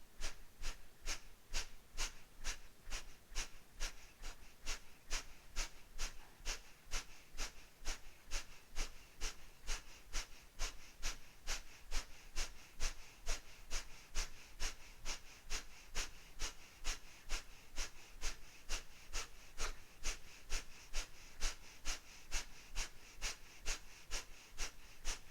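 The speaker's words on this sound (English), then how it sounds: "Inhale fully. Exhale completely." Rapid, rhythmic breathing during a breathwork exercise, dozens of sharp, even breaths pulsing steadily without pause for the whole stretch, close and clear with no talking.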